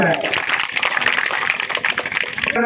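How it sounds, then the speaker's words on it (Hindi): An audience at a human rights awareness event in Saran, Bihar, applauds in a welcoming ceremony with steady, dense clapping throughout, close and loud, and a voice talking over it. "एक बार इनके स्वागत में पुनः हम लोग ताली बजाएं।"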